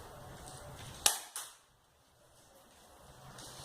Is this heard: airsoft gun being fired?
yes